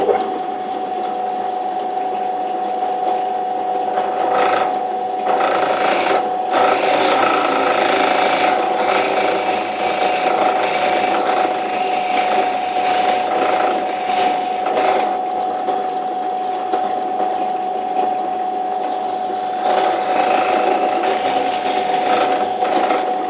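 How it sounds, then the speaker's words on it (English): An 8mm bit drills out a hole in a homemade wooden grinding jig, a continuous rasping, whirring bite into the wood with a few brief pauses and restarts, loud and close throughout. "I'll drill that out with an 8mm bit"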